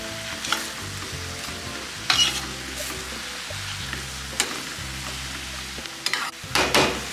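Ham frying with huitlacoche in a pan while being stirred, a soft continuous sizzle broken by several scraping spoon strokes and clacks against the pan, with a low background hum.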